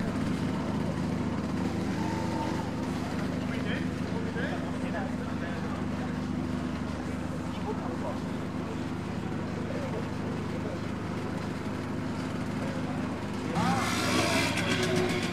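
Old two-stroke engines idle and run at an oldtimer meeting in Merzdorf, a steady low mechanical drone with a louder engine rising near the end, while people talk in the background.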